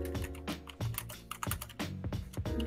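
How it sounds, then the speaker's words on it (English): Typing on a computer keyboard clatters in quick, irregular bursts of key presses, close and continuous throughout, over a steady low tonal background. "I can hear typing."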